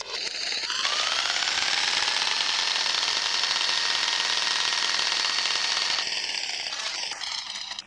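A broken Defiant electric jigsaw running at its lowest speed gives a loud, continuous mechanical rattle and whine. It starts abruptly, holds steady for several seconds and then winds down, close up with no talking.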